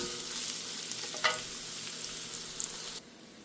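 Chopped long beans and plantain are stir-fried for thoran in a new pot, with a steady close sizzle and scraping stirs that stop abruptly near the end.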